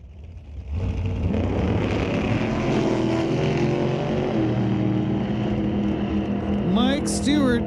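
A drag racing dragster launches off the line at Mission Raceway Park during an NHRA Northwest National Open Series race. Its engine roars loud and sustained after a quieter opening, while a commentator talks over it.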